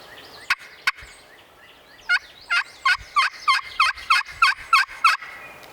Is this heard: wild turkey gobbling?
yes